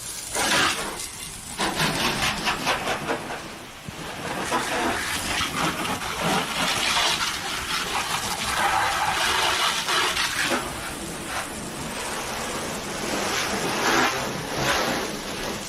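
A water hose sprays and rinses a Ford car during a wash, starting on the roof: a steady, loud hiss of spraying water that surges and shifts in intensity across the whole stretch, with no talking.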